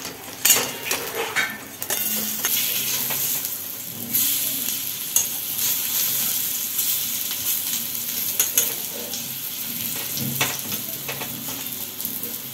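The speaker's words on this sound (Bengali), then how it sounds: "তেলটা গরম হয়ে যেতে এর মধ্যে বড়াগুলো দিয়ে দিয়েছি নিজের মতো শেপ করে।" Raw banana cutlets sizzle steadily in hot oil in a wok, with scraping stirs and occasional clinks of a metal utensil against the pan, close and continuous without any talk.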